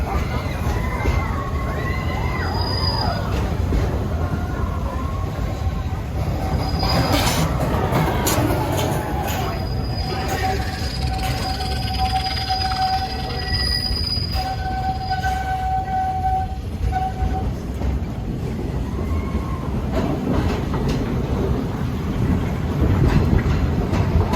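A Walt Disney World Railroad train at Magic Kingdom rumbles continuously along the track, with rattling carriages, faint voices from a crowd, and brief high whistle-like tones in the middle.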